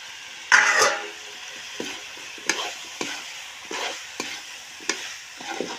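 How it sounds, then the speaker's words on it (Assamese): Potatoes dropped into hot oil with frying Assamese-style chicken curry, a loud burst of sizzling followed by a series of spaced scraping stirs of a spoon in the pan, close and without talk. "এতিয়া আলু দিম ইয়াত।"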